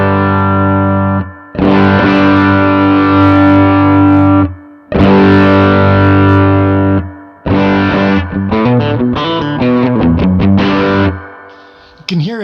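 Electric guitar through a Line 6 POD with the drive distortion raised, heavy sustained chords ringing loud and thick, then a fast choppy riff before it cuts off.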